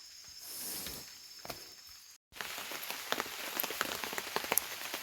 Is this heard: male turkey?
no